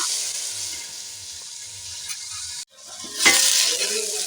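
Cauliflower and fish frying together in a pan with little oil, a bright steady sizzle that drops away for a moment as the lid comes off, then surges louder as the pieces are stirred.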